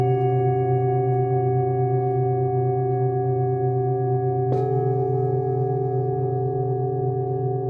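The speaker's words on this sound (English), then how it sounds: "Be aware of the sounds of the bowls." Singing bowls ring with several overlapping, sustained tones that hum steadily; a fresh strike partway through adds a brief bright attack before the layered ringing continues evenly and close.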